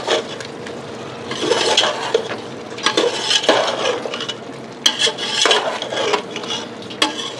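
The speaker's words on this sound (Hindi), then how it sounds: "इसे मिक्स कर देंगे अच्छी तरह से" Turmeric and coriander powder being mixed into a biryani pot, giving scraping, clinking spoon-on-pot stirring with a soft frying sizzle underneath, continuous and close.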